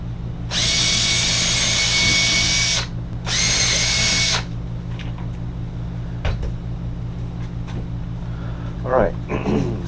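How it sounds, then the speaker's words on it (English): A power drill enlarges screw holes in a wooden board, running in two whining bursts of a couple of seconds and one second, followed by quieter handling clicks and taps. "so I'm going to go ahead and just drill them out a little more."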